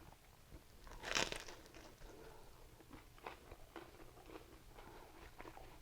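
Someone bites into a ribeye steak panini with mushrooms, onions and cheese, made on a Cuisinart Griddler GR-4N: one sharp crunch of toasted bread near the mic, then soft chewing and faint crinkles.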